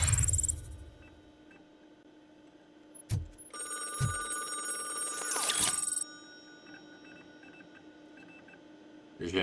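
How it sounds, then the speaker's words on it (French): In the video game RoboCop: Rogue City, a telephone rings with a bright electronic bell tone in one sustained burst after a couple of short clicks, over quiet game ambience and brief thuds. "Ça sonne. Je prends le téléphone."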